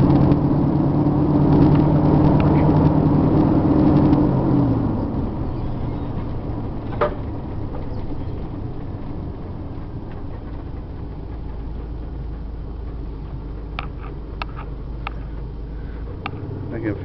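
A 1990 Gulfstream Friendship motorhome's engine rumbles as it moves slowly around a lot, a steady low drone heard from inside with occasional small knocks, louder at first and then easing.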